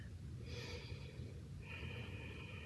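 Slow, audible breaths drawn in and let out during a seated chair stretch for seniors, two soft airy breaths heard close and faint with no talking.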